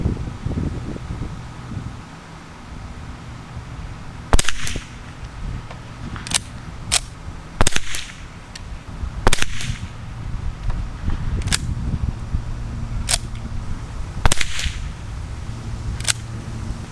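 Separate sharp cracks from a 1920s Savage Model 25 .22LR rifle ring out one at a time at irregular intervals, about seven or eight shots in all, over a steady outdoor background hum and light wind.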